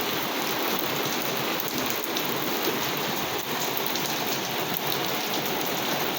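Hail falls hard and steady in Riyadh, pelting surfaces in a dense, continuous patter of ice that sounds much like heavy rain, with no voices.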